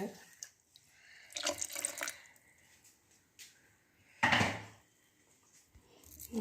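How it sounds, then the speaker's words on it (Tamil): Rinse water from washing cassava is poured into freshly ground cassava batter for dosa, giving a short watery splash and trickle in a quiet kitchen, with sparse handling sounds before and after. "இப்போ இதை கழுவுன தண்ணியை ஊற்றிடலாங்க."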